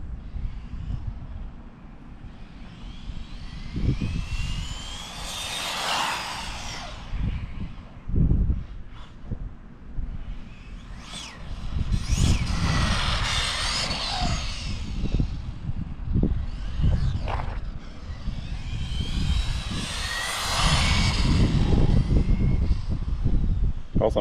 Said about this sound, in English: If I can get a full throttle pass without wrecking it.